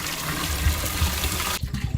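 Red tender coconut water poured into the bottom of a vessel while making a chilled village summer sarbath, a steady close splashing trickle that breaks off near the end into a few knocks and handling sounds.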